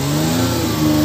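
A car engine revs after a spark plug replacement to fix a misfire, a close, loud and steady mid-pitched drone that swells slightly near the end, with no talk.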